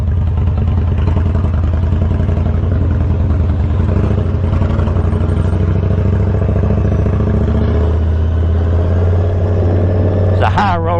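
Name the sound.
Victory motorcycle being ridden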